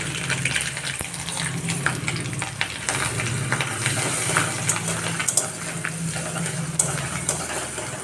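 Grated ginger, cashews and raisins fry in a pan, giving a continuous crackling sizzle broken by scattered sharp pops and spits.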